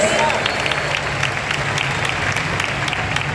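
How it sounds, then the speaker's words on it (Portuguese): A church congregation gives a round of applause during a sermon, with a thick, continuous wash of clapping and a voice briefly audible over it. "Dá uma salva de palmas ao Senhor"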